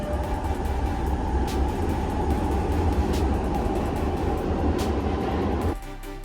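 Loud, steady rumble of a Milan metro car in motion, with rattling and a constant low roar that drops off abruptly near the end.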